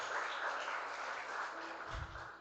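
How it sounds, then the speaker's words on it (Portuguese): Applause from a church congregation, a steady dense clapping wash throughout, moderately loud and continuous with some low rumble near the end. "Vamos dar um aplauso pela vida das meninas."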